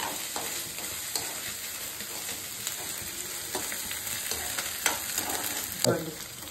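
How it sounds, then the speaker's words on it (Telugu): Ginger-garlic paste fries in a pan for cauliflower masala curry, a dense steady sizzle punctuated by repeated stirring scrapes and a few louder knocks near the end. "ఇప్పుడు కొంచెము మనము 1 స్పూన్ అల్లం వెల్లిగడ్డ వేస్తున్నాము. బాగా వేయించుకోవాలి"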